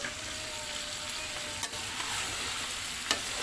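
Tomatoes go into a sizzling chicken karahi, which gives off a loud, even, broadband frying hiss throughout with a few faint clicks of a utensil, close by and without any voices.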